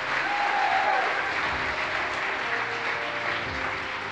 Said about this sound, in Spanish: A ver cuántos aplauden a la palabra.